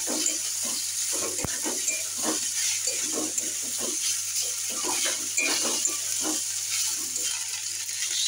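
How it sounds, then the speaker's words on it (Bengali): Pasta frying in a pan with potatoes and onions, a steady close sizzle with scattered scraping stirs and one sharp clack against the pan. "এবারে আমি পাস্তাগুলো দিয়ে দেবো।"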